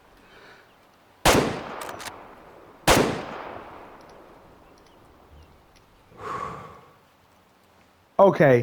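Hunting rifle shots in the Way of the Hunter video game on PS5: two loud, sharp cracks a couple of seconds apart, each fading out with a long echo, followed by a softer mechanical sound and a voice speaking briefly.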